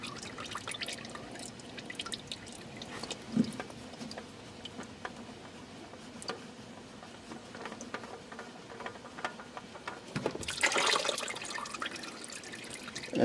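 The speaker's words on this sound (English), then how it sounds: "that is draining your oil filter" Car engine oil drains out of an oil filter, giving faint, irregular drips and trickles close by, with a brief louder splash of liquid near the end and no talking.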